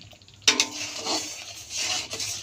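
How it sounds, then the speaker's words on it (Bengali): A mango mixture for mango leather is stirred in a pot: a sharp clank of a spoon against metal, followed by soft, intermittent scraping and swishing strokes, close and fairly quiet. "এটাকে খুব সুন্দর করে মিশ্রণ করতে হবে এখন"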